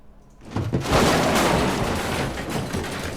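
A sudden booming blast swells up and rumbles on, a broad roaring video game explosion sound effect that stays loud and fills the whole clip.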